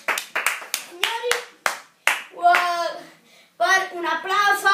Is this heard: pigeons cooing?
no